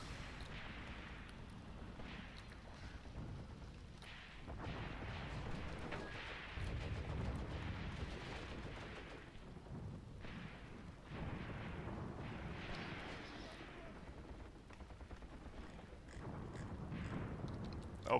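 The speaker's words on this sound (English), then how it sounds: "Over here my own artillery is falling actually pretty close to where the anti-tank guns are." Artillery shells burst in the Graviteam Tactics war game, a near-continuous barrage of deep, rumbling blasts that swell and overlap over a heavy low roar, with no voices.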